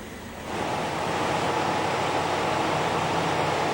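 Strong typhoon wind blowing across a city in northern Luzon, a broad steady roar that swells up after a quieter start and then holds loud and continuous, with no voices.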